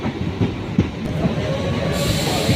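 A commuter train pulling into Hebbal railway station, steady loud rumble of wheels and carriages with faint rhythmic clicks, no voices.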